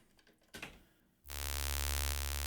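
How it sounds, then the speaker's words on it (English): A modular synthesizer oscillator, a plain analog-style source, drones on its own after a brief quiet lead-in, holding a loud, steady, harmonically rich sustained tone with no talking. "So the oscillator on its own sounds like this."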